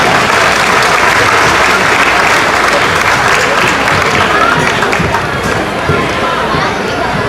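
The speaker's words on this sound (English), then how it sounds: "Let's applaud these young people as they enter." Dense, loud applause from an audience at a county fair show fills the whole stretch, steady clapping with crowd noise blended in.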